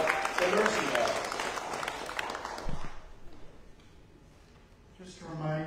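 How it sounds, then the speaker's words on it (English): Church congregation applauding during a Sunday worship livestream, a moderate burst of clapping in the room that trails off after a few seconds into quiet, with a voice speaking over the start and again at the end. "would you give Dale Vanderpool a nice big round of applause?"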